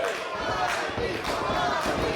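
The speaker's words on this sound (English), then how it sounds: "You can hear this White Eagle crowd rallying behind Bobby Orlando." Crowd at a White Eagle wrestling match cheers and roars in a dense, continuous swell, loud and close throughout, with a voice faintly mixed into the din.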